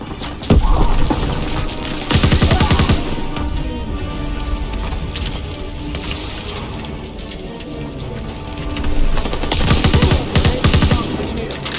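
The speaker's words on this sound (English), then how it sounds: "Lobbing a grenade!" Call of Duty WW2 combat with a grenade blast and gunfire: heavy bursts of rapid automatic fire and booming impacts come in loud clusters over a dense, crackling battle din.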